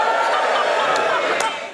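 A studio audience on the QI panel show cheers loudly and steadily, a dense crowd roar that holds throughout and tapers slightly at the end.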